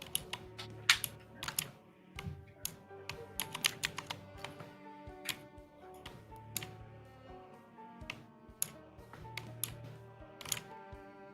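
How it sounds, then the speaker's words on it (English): Computer keyboard keys clatter in irregular bursts of sharp clicks, close and distinct, with brief pauses between runs of typing and no speech. "there's like a lot of clicking going on"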